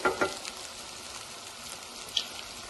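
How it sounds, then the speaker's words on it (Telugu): Turmeric and salt frying in a pan as the base for a country chicken curry with raw mango, giving a soft, steady sizzle with a few sharper crackles near the start and once later. "మంచిగా ఫ్రై అయిందండి."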